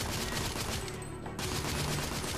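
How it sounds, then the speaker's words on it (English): Rapid gunfire during a firefight in the video game The Order: 1886, a dense unbroken stream of loud shots that drops out for a split second near the middle before resuming, no speech heard. "What are you shooting at, dude?"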